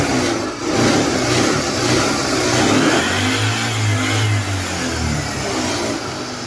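A Suzuki Access 125 scooter engine runs steadily up close after a starting and pickup fault has been fixed, its mid-pitched hum swelling briefly as the throttle opens partway through, with no talk over it.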